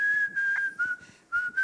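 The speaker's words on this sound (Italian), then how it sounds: "tu fischi e la carta esce" Someone whistles a sustained, steady tone for a magic trick meant to make a card come out, a single near whistle with brief breaks.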